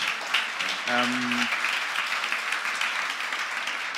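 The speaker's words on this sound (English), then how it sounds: "And a round of applause to our amazing panelists." Audience applause for conference panelists at an opening session, a steady wash of clapping throughout with a brief tonal sound near the start.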